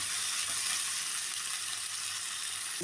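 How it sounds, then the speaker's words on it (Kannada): Tomato frying in oil in a pan for an aloo kurma, a steady even sizzle that hisses without a break, close and fairly quiet, with no voices. "ಸ್ವಲ್ಪ ಟೊಮೊಟೊ ಟೊಮಾಟೊನ ಎಣ್ಣೆಲಿ ಫ್ರೈ ಮಾಡ್ಕೊಳ್ಳಿ"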